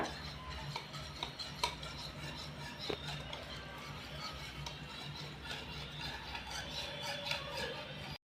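Cornflour being stirred into water with a spoon for carrot halwa, a quiet, steady scraping and ticking against the bowl, close up and continuous.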